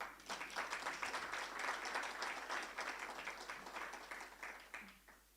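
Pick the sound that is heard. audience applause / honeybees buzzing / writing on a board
audience applause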